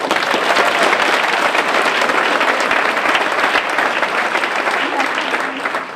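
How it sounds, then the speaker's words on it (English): Dense, sustained applause from a large audience at a public motivational lecture, loud and steady throughout with no gaps and fading slightly at the end. "Give yourselves a round of applause."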